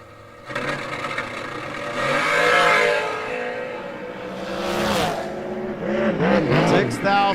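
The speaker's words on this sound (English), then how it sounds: "Randy Phillips out of Dixon, Tennessee, 466 dial for the Just Fast Enough dragster." Drag racing dragster launching down the strip at a night event, engines roaring loudly from the start line and rising as the cars pull away, with an announcer talking over the noise throughout.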